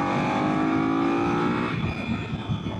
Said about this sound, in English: Nice little third gear pull right there